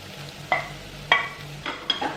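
Noodles mixed with fried egg are stirred in a pan with the heat off. About four quick scraping strokes sound close and moderately loud over a faint background hum.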